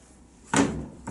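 An Austin Mini car door swings into its body aperture with a single solid thunk, followed by a short rattle and a faint second knock near the end, all in a quiet workshop.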